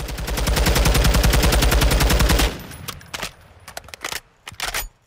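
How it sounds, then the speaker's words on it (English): MK 16 rifle in Call of Duty Modern Warfare II firing a long rapid automatic burst of evenly spaced loud shots, then falling into short clicks and handling rattles; no talking. "So let's go ahead and try and control it once more."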